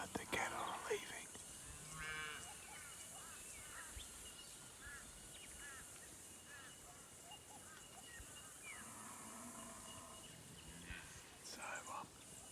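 Cattle low and moo at a distance in open country, with several short calls scattered through a steady outdoor hiss, and a soft whisper-like voice now and then.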